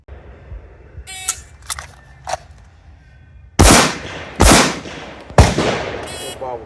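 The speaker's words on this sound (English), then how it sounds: "Little bobble the grip there on the pistol, but 2 good shots in the A zone" Handgun shots fired at a target during a shooting drill, several sharp loud cracks closely spaced after fainter earlier pops, with no talk.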